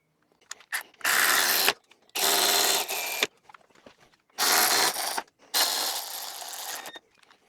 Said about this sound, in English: I'll bolt the luggage rack back up and I'll bolt up the pannier holders